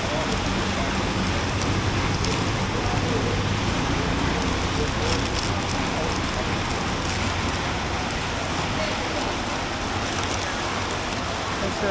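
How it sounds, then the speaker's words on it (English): Steady rain falls on a busy Phnom Penh street at night, a dense continuous hiss with a low traffic rumble beneath and faint chatter from a packed noodle place nearby. "It's a usual rainy night."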